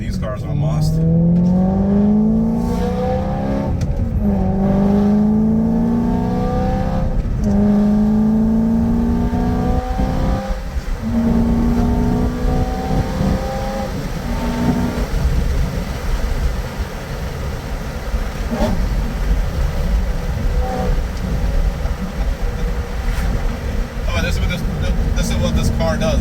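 A BMW E90 M3 with its V8 and six-speed gearbox revs hard in a series of rising, growling pulls, then settles into a steady, loud exhaust drone.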